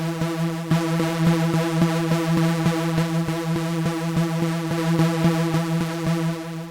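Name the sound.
Serum synth patch before and after analog-modeled filter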